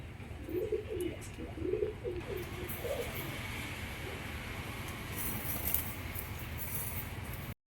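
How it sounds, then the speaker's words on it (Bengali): A restless breeding pair of caged pigeons, one male and one female, gives several soft throaty coos over the first few seconds, then only a low, steady background remains. "প্রচণ্ড ছটফট করছে পায়রাগুলো বাইরে বেরোনোর জন্য"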